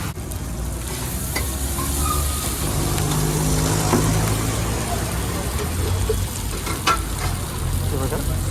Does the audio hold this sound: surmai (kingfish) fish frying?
yes